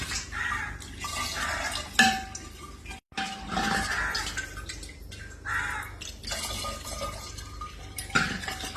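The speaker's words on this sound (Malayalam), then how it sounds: "ഇതിങ്ങനെ ചിരട്ടത്തവി കൊണ്ട് മാത്രം ഒഴിക്കണം" Sugared rambutan pulp is poured with a coconut-shell ladle, making soft liquid glugs and splashes in a series of separate pours. Light clinks of the ladle and a brief gap come between the pours, and no one speaks.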